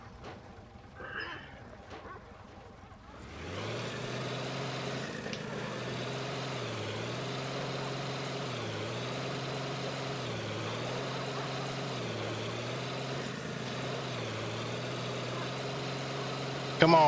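A truck engine in The Slaverian Trucker video game rumbles into a steady low idle with a gently pulsing, wavering drone that continues unbroken, after a brief faint voice at the start.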